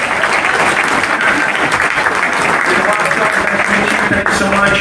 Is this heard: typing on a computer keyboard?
no